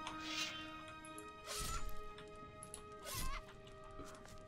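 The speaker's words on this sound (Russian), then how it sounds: "Теперь я могу убивать куриц." Chickens are struck and killed in the video game Gothic 3, with three sharp smacking hits spaced about a second apart over a tonal game music bed, faint and without talk.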